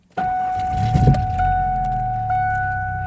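A 1992 Ford Ranger flatbed with a 5-speed manual starts up in an empty lot and settles into a steady idle, with a constant electronic chime tone running over the engine throughout.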